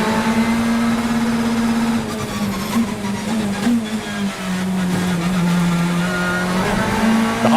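BTCC touring cars racing at Oulton Park, a loud, sustained engine drone with a strong steady pitch that dips slightly mid-lap before swelling again as cars pass close by.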